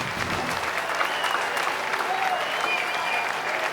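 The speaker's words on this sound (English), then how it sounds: "Round of applause for my top 10." A crowd at a bass fishing tournament weigh-in gives a steady, sustained round of applause for the top 10 anglers, with dense clapping throughout and a few faint voices mixed in.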